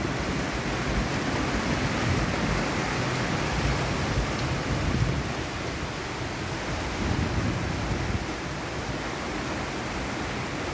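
Steady monsoon rain pouring over trees, a dense, even hiss of falling water that continues without a break, close and fairly loud, with no voices.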